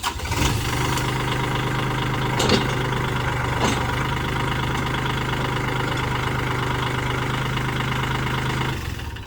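A Kubota L4018 three-cylinder diesel tractor engine catches with a couple of sharp clatters and then settles into a steady, rumbling idle that continues throughout.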